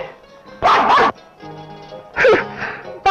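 A dog barks in sharp, loud bursts, two close barks followed by another pair after a pause, with a whining, tonal undertone between them in an old film soundtrack.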